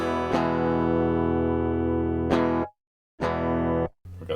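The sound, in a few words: electric guitar through Canadian overdrive distortion pedal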